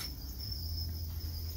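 Thai golden crickets at a cricket farm in Củ Chi keep up a continuous high, shrill chirring trill, close and steady over a low background hum, with no talk.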